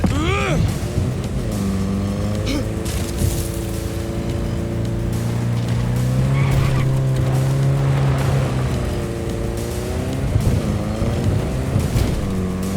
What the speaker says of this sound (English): So as soon as you find Saul, I'll fire up the engine and we'll speed out.